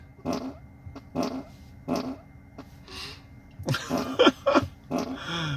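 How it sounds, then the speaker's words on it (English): A Tesla Model 3 plays its whoopee-cushion fart sound effect as a series of short, raspy blasts in an irregular rhythm inside the car cabin, with the later ones louder and more varied. "it's directional, so you can move where the fart is"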